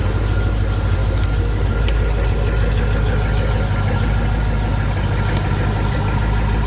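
A 1996 Corvette LT4 V8, running just after a fuel pump replacement, idles with a loud, steady, deep rumble under constant high-pitched whine and hiss, close and unbroken throughout, with no talking.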